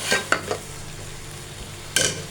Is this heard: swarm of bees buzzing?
no